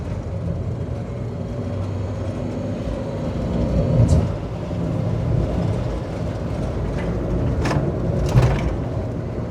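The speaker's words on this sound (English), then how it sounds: "a bit more road noise than you might be used to in a passenger" Steady broadband road roar fills the cabin of a Renault Kangoo van while driving, a constant low rumble with a couple of brief sharp swells, no talking.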